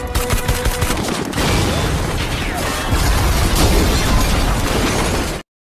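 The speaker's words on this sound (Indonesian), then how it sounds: "Saju diberondong tembakan dari helikopter" Heavy gunfire from a helicopter in an action scene from the film Extraction, a loud, continuous fusillade of shots and bursts layered with explosive impacts, dense and chaotic from start to finish before cutting off abruptly.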